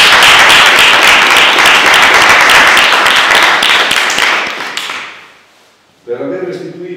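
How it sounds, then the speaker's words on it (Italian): Loud, sustained applause from a crowd at a thesis graduation ceremony fades away, then a voice begins speaking. "un applauso."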